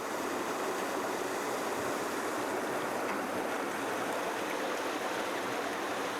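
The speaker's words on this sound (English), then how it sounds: "water from the river is being diverted into a canal" Water from a river rushing into a canal at a micro hydropower site in Afghanistan, a steady, close, broadband roar of turbulent flow with no talk or other sounds.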